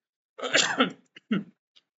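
A rough cough from someone with a lingering fever and cough, followed by a short second cough, close and dry, with brief silence around them.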